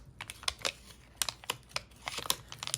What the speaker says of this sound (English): I'm going to crumple it out a little more.